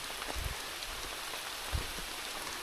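Steady rain patters down on hikers along the Appalachian Trail, a dense broadband hiss with a couple of brief low thumps, with no talking.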